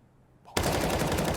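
A rifle spray in Counter-Strike erupts abruptly after a short quiet lead-in, a continuous loud stream of rapid automatic shots close up.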